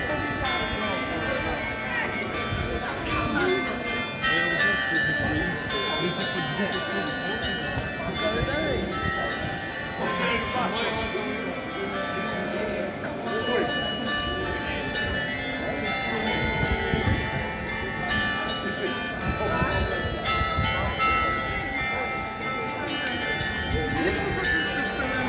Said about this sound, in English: you can still hear the carillon being played through the streets of Gdańsk today